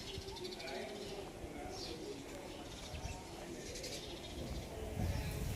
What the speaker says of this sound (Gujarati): ધ્યાનથી પક્ષીઓના કલરવને સાંભળવાનું મન થયા કરે